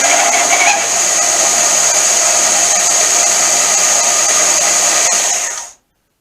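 A 1-inch belt sander with a noisy bearing runs at full speed, a loud continuous high whine with airy hiss, and then spins down and cuts out just before the end.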